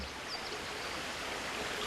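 Water in a stream flows steadily with a soft, continuous rushing hiss, fairly quiet and unbroken, with no voices.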